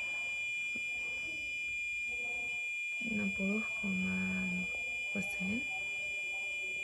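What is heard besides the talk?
buzzer sounding after uniform classifier detects batik shirt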